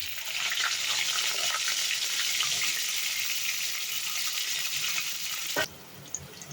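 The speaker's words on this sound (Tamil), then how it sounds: "கத்தரிக்காயை போட்டு பொறிச்சு எடுக்கலாம்" Loud, continuous hissing and crackling of brinjal (eggplant) frying in hot oil, close up, ending with a brief clatter as the sizzle quiets.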